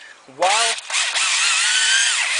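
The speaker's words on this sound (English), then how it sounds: "Oh, that drill just doesn't want to lock up in there now, does it?" A power drill whirs up to speed with a rising whine, then runs steadily at a loud, high pitch, close by, during a QR25 engine rebuild.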